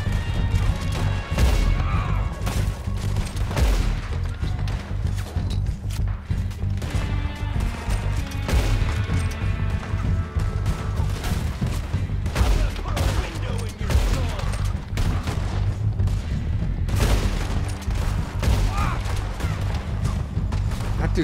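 Gunfire in the Western video game Red Dead Redemption 2: rapid, repeated sharp gunshots crack close and loud in dense bursts throughout a gunfight, with occasional crashes and impacts mixed in.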